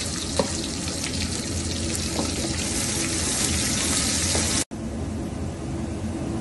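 Onions frying in oil with salt in a pan, a loud continuous hiss and sizzle with a few faint crackles, cutting off abruptly near the end before a quieter sizzle resumes.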